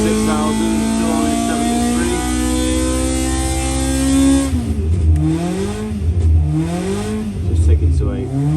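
A Hillman Imp engine revs hard on a dyno, its loud, steady drone climbing in pitch, then falling and surging again in several rising and dipping sweeps.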